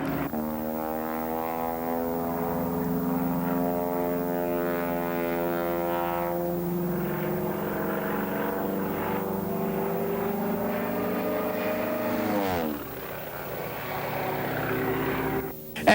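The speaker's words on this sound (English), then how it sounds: "And the ribbon right on the tail of that airplane, the world's lowest ribbon pickup" Propeller airplane making an extremely low pass for a ribbon pickup at an airshow in Addison, Texas, a steady loud droning engine with shifting harmonic pitch, then a sudden change as it passes close by.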